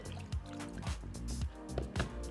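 Water drips and trickles onto a whetstone used to sharpen a kitchen knife, giving a series of small wet splashes and dribbles, close and moderately loud.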